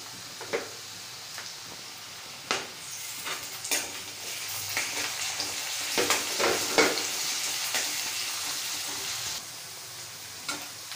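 Garlic added to onion and ginger frying in a pan for palak sabzi, a steady close sizzle with scraping stirs and clinks of a spoon against the pan, no talk.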